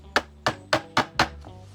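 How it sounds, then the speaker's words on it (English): Five quick, sharp hammer taps on a screwdriver, evenly spaced and close, each a short knock with a brief ring. "you take your screwdriver and hammer,"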